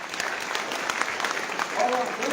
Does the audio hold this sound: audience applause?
yes